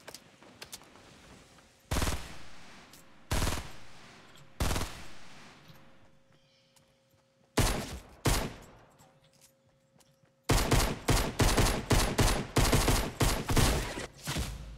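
Shotgun blasts in a Fortnite match, loud and sharp: a few isolated shots spaced seconds apart, then a rapid cluster of repeated blasts toward the end, with faint footsteps between them.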